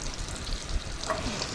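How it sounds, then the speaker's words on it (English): Sage leaves sizzle in a hot frying pan, a continuous close crackling hiss over the short stretch with faint stirring noises and no talk. "I love it when the sage hits the pan."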